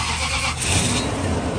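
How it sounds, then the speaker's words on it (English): A Toyota 4.7L 2UZ-FE V8, opened up for a coolant change, cranks and fires, then settles into a loud, close, steady low rumble. "and now we're gonna start the engine"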